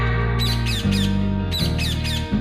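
A caged pet bird in a Bob the Builder cartoon squawks in two groups of three sharp, loud calls over a steady musical background.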